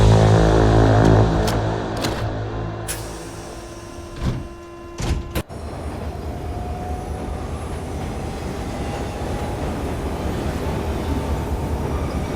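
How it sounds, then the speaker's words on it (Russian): Steady rumble and rattle inside a moving train car in South Korea, with a few sharp clunks and a brief squeal before the ride settles into a continuous drone. "И вот мы уже в поезде."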